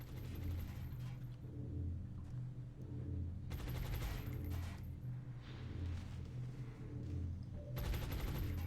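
Suppressing gunfire in the XCOM Long War Rebalance game: a continuous mechanical rattling of automatic fire with clicking mechanisms, steady and close, running through the whole stretch with short louder bursts and no talk.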